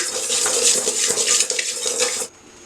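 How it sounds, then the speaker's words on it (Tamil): Dry rice grains crackling, popping and rattling steadily as they roast in a hot pan, a dense, bright sizzle that stops abruptly near the end. "இப்போ அரிசி வெடிக்கிற சவுண்ட் வந்துருச்சு"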